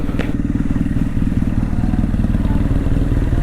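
A BMW R nineT motorcycle engine idles just after starting, a close, steady, lumpy boxer-twin thrum with a faint clatter, with a brief sharp click near the start.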